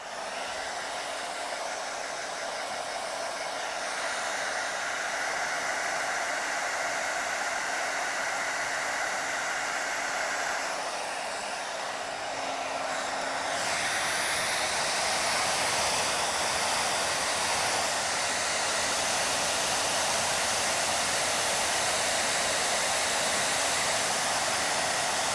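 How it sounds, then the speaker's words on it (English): A hair dryer blows steadily and close, a continuous loud rushing hiss whose pitch shifts partway through as the airflow changes. "even now when I'm using hair dryer"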